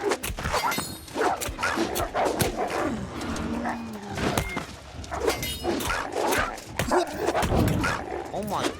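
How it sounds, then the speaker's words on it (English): A puppy in the video game New World barks and yips repeatedly amid busy game sounds, with dog whimpers mixed in and people talking over it throughout. "Oh, also a normal puppy."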